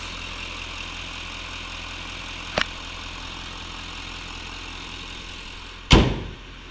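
A 6.6 liter Allison Duramax diesel engine in a 2015 GMC Sierra Denali HD idles at a steady low rumble, with a brief sharp click partway through and a louder thud near the end.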